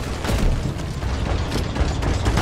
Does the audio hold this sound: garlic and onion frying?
no